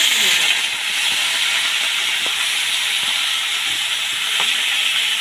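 Neem leaves, squeezed dry, sizzle steadily as they go into hot oil in a pan for a bitter summer dish, a loud, continuous hiss with a few faint clinks of a utensil.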